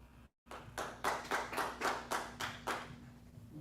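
An audience at a congressional district forum breaks into rhythmic, steady clapping after a brief silence, about eight evenly spaced bursts of applause, moderately close.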